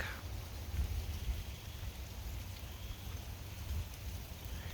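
Steady rain falls at a nature center in Racine, with a constant soft hiss and patter, faint and continuous throughout, with no voices.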